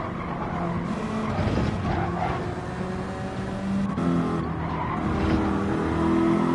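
Race cars in a Gran Turismo 7 race, including a Group 4 Corvette, run a continuous engine drone with rising and shifting pitch and squealing tires, loud and steady throughout.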